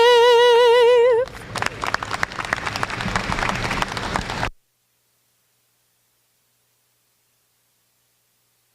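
A held sung note closes the national anthem at an alpaca show, then a crowd bursts into applause, a steady roar of clapping for about three seconds before cutting off abruptly into silence.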